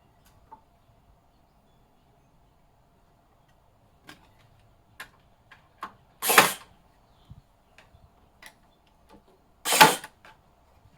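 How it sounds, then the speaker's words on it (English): A basic nail gun drives nails into wooden slats with two sharp, loud, well-spaced shots amid quiet clicks and handling taps in an otherwise silent room. "Just we're going to go along and just use this basic nail gun just to secure them."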